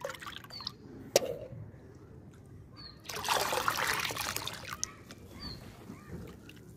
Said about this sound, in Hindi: अब यही लिक्विड फर्टिलाइजर मैं अपने इन गमलों में